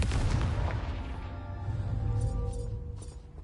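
The Confringo explosive spell in Hogwarts Legacy, a heavy booming blast that rumbles and decays for a few seconds, loud and close, with fainter crackling bursts trailing after.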